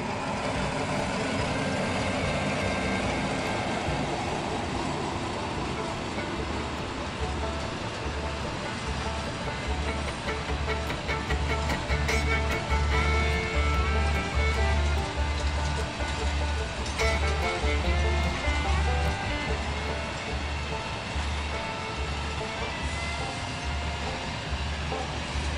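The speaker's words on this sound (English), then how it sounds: "A freight train with its red locomotive greets us in this brown nature." A heavy freight train with a red locomotive rumbles past at close range through open countryside, its low rhythmic clatter of wagons steady and loud throughout, with no voices.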